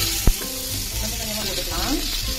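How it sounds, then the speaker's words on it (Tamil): Potatoes frying in hot oil on a tava, a steady crackling sizzle with a sharp clatter near the start as pieces go in. "ஆயில் நல்லா ஹீட் ஆகிடுச்சு, பொட்டேட்டோஸ் போட்டுக்கலாம்."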